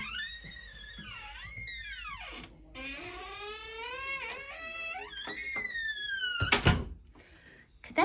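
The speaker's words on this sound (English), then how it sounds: "Could that door be any squeakier?" An old interior door to a basement creaks open with long, loud, wavering squeals that rise and fall over several seconds, ending in a sharp knock near the close.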